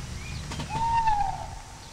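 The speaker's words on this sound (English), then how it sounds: "There's an owl, a symbol of wisdom." A single owl hoot in a film scene, a clear sustained tonal call lasting about half a second over a low background rumble.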